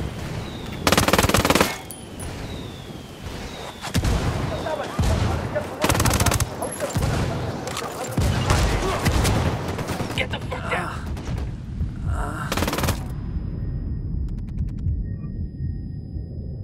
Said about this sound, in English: Call Pakatari for some mortar fire